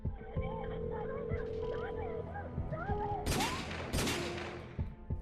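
Two sharp, loud bursts of gunfire-like blasts crack out near the end, over a busy background of tones and faint voices.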